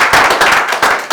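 A church congregation claps and applauds in praise during a worship service, dense rhythmic hand claps filling the space at close range, loud and continuous throughout.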